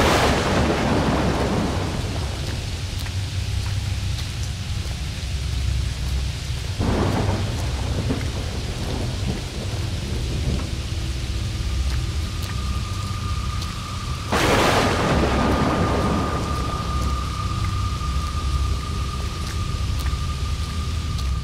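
Night thunderstorm with heavy rain as a cartoon sound effect: steady dense rainfall throughout, broken by loud, close thunder cracks and rolls, one early, one around the middle and a big one later.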